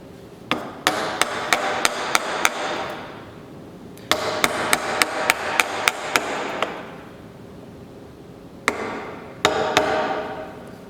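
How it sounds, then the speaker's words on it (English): An old woodworking chisel strikes into wood in three rapid bursts of sharp, evenly spaced taps, each run of five to seven hits ringing brightly before a short pause, close and loud with no talking. "you're gonna see the chisel kind of working back and forth a little bit, controlling how much material gets taken out in one shot"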